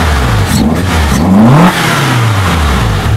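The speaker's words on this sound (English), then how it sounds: "this one, it doesn't idle properly until it's warmed up." Cold Toyota Corolla Levin AE86 twincam, a racing-built car with a wide body kit, revving in short rising blips over an uneven idle, loud and close.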